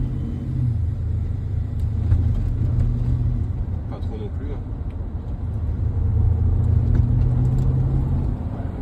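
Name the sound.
BMW X5 50i xDrive accelerating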